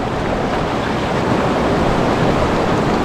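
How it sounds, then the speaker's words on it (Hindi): Cold glacial meltwater river rushes steadily and loudly up close where someone bathes, a dense unbroken wash of water with no voices. "और नदी में नहा रहा हूँ"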